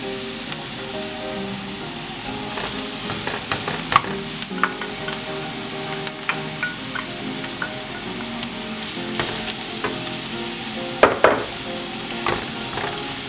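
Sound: chorizo frying in a pan with a little oil

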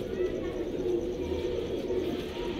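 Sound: pigeons cooing

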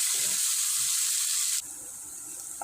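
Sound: onions frying in oil until golden

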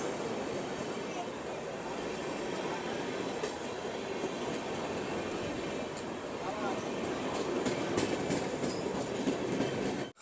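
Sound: train with WAP-7 locomotive arriving at station

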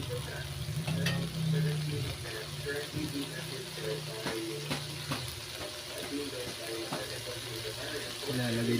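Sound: stirring sautéed mung beans in the pot

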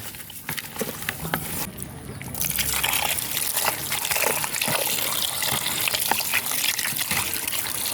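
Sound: washing fish in water to remove slime

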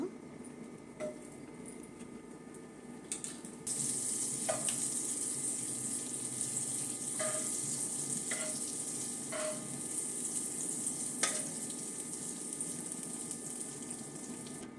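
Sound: butter sizzling in a hot pan

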